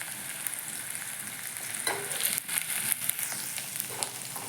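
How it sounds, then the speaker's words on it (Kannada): Onions fry in a pan of oil with cumin and mustard seeds, making a close, steady hiss and crackle, broken by a few louder bursts of stirring and spattering, with no voices. "ಫ್ರೈ ಮಾಡ್ತೀನಿ ರೀ ಸ್ವಲ್ಪ"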